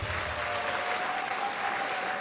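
Edo State pensioners at a health insurance enrollment event applaud the governor, giving a dense, steady burst of clapping from a sizable indoor crowd that fills the short moment with no talk.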